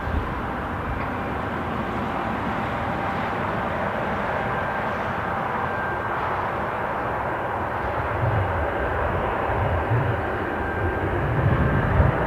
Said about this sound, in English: So we have a Jet2 737 bound for Faro.